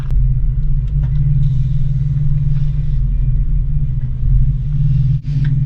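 A motorhome engine rumbles steadily and loud throughout as the rig creeps into a tight, one-way campground road at Pinecrest Lake, a deep continuous drone with no talk over it.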